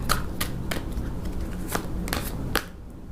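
Tarot cards shuffled by hand in a run of quick riffling bursts, about six crisp rustling flurries over three seconds, close and fairly loud, with no talking.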